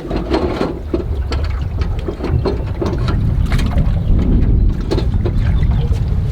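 Wind buffets a fishing boat drifting slowly on open water, a steady low rushing roar with gusty microphone rumble and faint knocks throughout, no talking.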